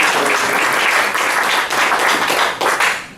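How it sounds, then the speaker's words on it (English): A roomful of people at a Rotary Club meeting claps steadily for the door greeter, a dense, continuous round of applause that swells and dips briefly before tapering off near the end. "Thank you, Aaron. Let's give him a round of applause."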